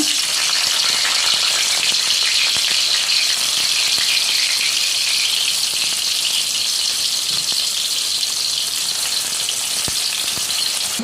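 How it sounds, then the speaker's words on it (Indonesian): Oil sizzles and crackles loudly and continuously as tempeh fries, with occasional soft pops and clinks over the constant hiss. "Jadi sini untuk tempenya ini saya goreng."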